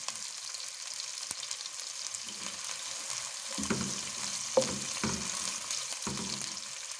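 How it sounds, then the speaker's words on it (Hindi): Onion and green chillies frying in oil in a pan, a soft, steady sizzle with a few low scraping stirs later on, close but fairly quiet, with no speech. "अब मैं इसमें एक मीडियम साइज़ का प्याज ऐड कर दूंगी और साथ में हरी मिर्च जो 2 अदद काटी थी वो भी मैं इसमें ऐड कर दूंगी।"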